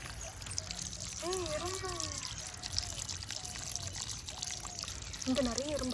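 Water splashing and trickling steadily in a home garden, a continuous wash of falling water like a small waterfall, with voices talking over it.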